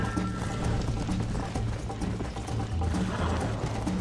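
Horse hooves gallop in a steady, rapid clip-clop rhythm in the Red Dead Redemption video game, loud and continuous, with occasional mechanical clatter and no talk.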